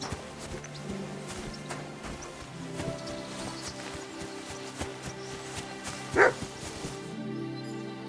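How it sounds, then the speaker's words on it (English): A dog barks in the medieval video game Kingdom Come, a single sharp bark standing out against a busy background of ambient music and game sound, fairly distant and brief. "Barking."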